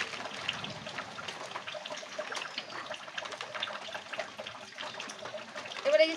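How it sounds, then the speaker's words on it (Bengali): Tap water runs steadily over cut tengra fish as they are washed, a continuous close splashing trickle with a voice speaking faintly beneath it. "চলুন বন্ধুরা, মাছগুলো একবার ভালো করে একটু ধুয়ে নিই।"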